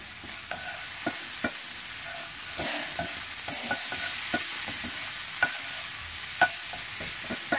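Garlic frying in a pan for a stir-fry of asparagus with pork liver, a steady soft sizzle with intermittent spatula clicks and scrapes against the pan, fairly close, no talking.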